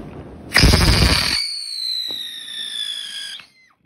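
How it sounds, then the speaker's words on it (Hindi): A Diwali firework bursts with a sharp crackling blast, then one whistling rocket shrieks for about two seconds in a long, falling tone, and the whistle cuts off abruptly. "आगे पीछे बम चल रहा है"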